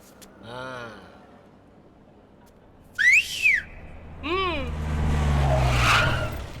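A person whistles in a courtroom, giving a few short rising and falling sliding whistles in separate bursts, close and fairly loud, with a low rumble underneath and no talking.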